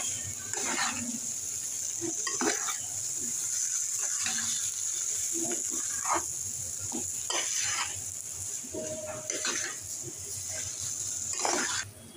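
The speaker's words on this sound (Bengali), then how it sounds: "সাথে দিয়ে দিচ্ছি কিছু ধনেপাতা কুচি। এবার এটাকে ভালো করে নেড়ে চেড়ে নিই।" Potatoes for aloo puri stir-fried in a pan with chopped coriander leaves: a moderate sizzle under repeated scraping and stirring strokes from a utensil, with brief clinks against the pan and no talking.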